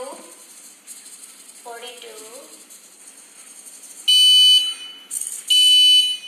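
An Arduino heat-monitoring system's shrill electronic buzzer sounds in two loud bursts near the end, following a quiet stretch with brief faint electronic chirps.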